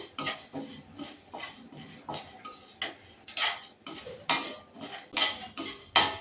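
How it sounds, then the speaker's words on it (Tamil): Dal being dry roasted in a pan on medium heat, with a spoon scraping and clinking against the metal in irregular bursts, close and fairly quiet, with no talking. "கொஞ்சம் மீடியம்லேயே வச்சு பருப்பை வறுத்து எடுத்துக்குவோம்."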